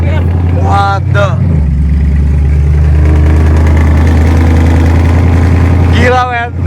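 A motorbike engine idles with a steady low drone, then briefly revs, close and loud, with people talking over it throughout.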